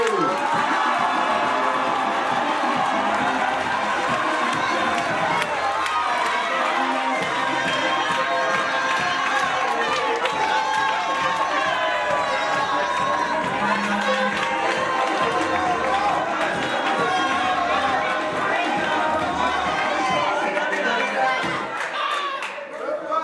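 A large outdoor crowd at a touring promotional event in Côte d'Ivoire's Gôh-Djiboua district claps and cheers continuously, a dense, loud wash of applause, whistles and shouts with a voice on a sound system audible through it.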